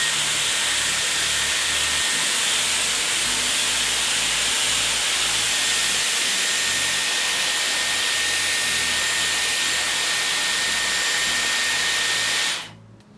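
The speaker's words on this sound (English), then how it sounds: "obviously I couldn't talk while I was air wrapping" A rose gold Dyson Airwrap hair styler blows at its highest speed and heat as a steady, loud, hissing rush of air, then cuts off at the very end.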